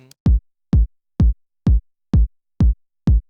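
Seven dry electronic kick-drum hits from a 909 drum machine, without effects, land at an even tempo, each a punchy low thump with a quick decay. Nothing else plays between them.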